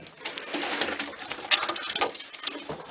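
Young racing pigeons shuffle and coo in a loft before a release, giving soft, close fluttering and soft calls. Light pattering and brief wingbeats are heard, and no one speaks.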